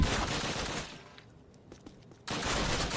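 Rapid automatic gunfire bursts from Call of Duty (2003 game), Eder dam mission, loud at the start, dropping to quieter scattered shots, then a heavy renewed volley at the end.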